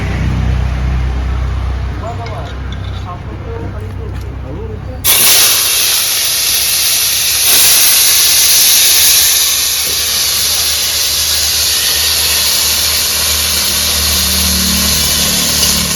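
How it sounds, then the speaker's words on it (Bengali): Potatoes drop into hot oil and fry with a loud, sudden burst of hissing sizzle that stays steady and close, following a stretch of talk. "ভাজা তেলের মধ্যে আলুগুলো ভেজে নেব"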